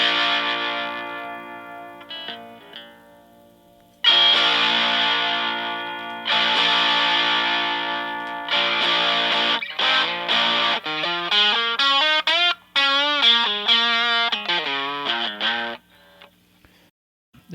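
Guitar played through a Distortion Bender distortion pedal with its light low-pass filter shaving a little of the highs: loud distorted chords in separate bursts with short gaps, then wavering, bending notes before the sound fades out.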